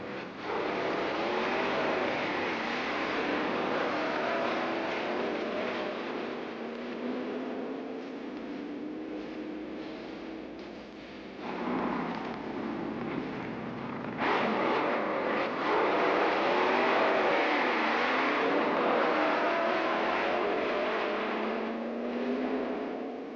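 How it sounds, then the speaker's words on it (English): A 1964-65 Ford Thunderbolt Fairlane drag racing car roars down a quarter-mile strip from a standing start, its engine note rising through gears in a long loud run with a brief dip midway, no speech. "driving in a straight line from a standing start for a 1/4 mile"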